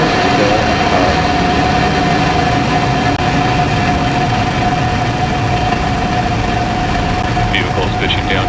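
Falcon 9 rocket engines thunder at ignition and liftoff, a dense, continuous low roar heard from a distance with a steady faint tone running through it and brief higher crackles near the end.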